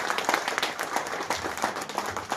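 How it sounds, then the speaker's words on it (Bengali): Audience clapping at a stage event in a crowded hall, a dense patter of many hands sustained at steady loudness for a couple of seconds with no voices over it. "ওই জায়গায় একটা হাততালি।"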